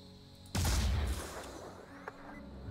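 A weapon shot in Phoenix Point: one sudden loud blast with a long, decaying rumbling tail, followed by a faint, sharper pop a moment later, with no talking.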